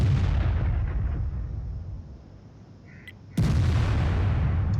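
A single heavy boom from a Lorraine 155 51 self-propelled artillery gun in a tank video game, a sudden sharp blast after a rumbling lull, followed by a sustained loud roar.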